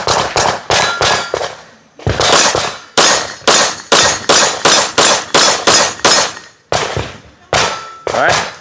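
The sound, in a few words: Kimber KDS9C Rail 9mm pistol firing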